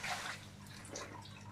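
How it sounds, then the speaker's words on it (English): Water splashes as a red terror festae cichlid is netted out of a home aquarium tank, a faint, steady, washing splash lasting throughout with no clear voices. "Here we go, water everywhere."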